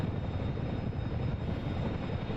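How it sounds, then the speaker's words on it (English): Chinook helicopter inside the DCS World combat flight simulator, a steady dense rotor and engine rumble heard from the cabin, constant and fairly loud with no voices. "Are we all in Topper's Chinook?"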